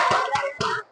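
Primary school third graders perform a rhythmic classroom clapping chant, with three evenly spaced claps mixed into their chanted voices, close by.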